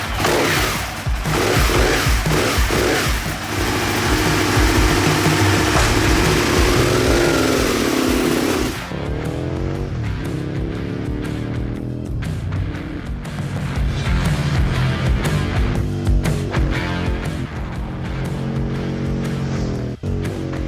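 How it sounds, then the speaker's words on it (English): An Aprilia RSV Mille sport bike's engine runs close by, a dense, loud, throbbing roar that rises and surges in revs during the first half, then settles into a steadier, slightly lower growl with small blips. "It's a good looking bike with a great sound."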